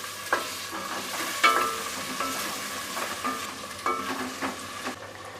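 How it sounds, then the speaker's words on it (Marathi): Onion and tomato sautéing in a pan for a prawn rice dish, a steady soft sizzle broken by repeated scraping stirs of a spoon against the pan, fairly close and alone with no voices. "आता कांदा आणि टॅमॅटो गळेपर्यंत आपल्याला परतून घ्यायचं आहे"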